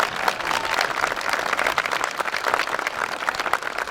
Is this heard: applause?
yes